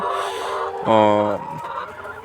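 Layer hens in a poultry shed at night give off a loud, close cluck and squawk from one bird, set against a murmur of softer clucking from the flock, with someone talking nearby.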